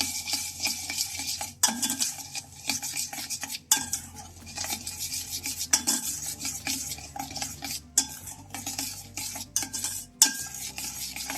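A spoon stirs cardamom powder and sugar into raw mango panha in a metal vessel. Quick, close scraping and clinking strokes repeat steadily, with no talk.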